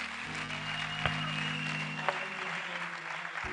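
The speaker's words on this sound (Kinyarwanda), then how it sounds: "nimwongere ijambo ry'Imana amashyi menshi" A church congregation claps in sustained applause, a broad wash of many hands inside a hall with an underlying hum and a couple of sharper knocks.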